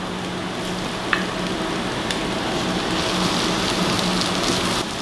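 Chopped celery and multicolored peppers sautéing in a pan for stewed salt cod, a steady close sizzle and crackle running without a break, with a faint clink near the start.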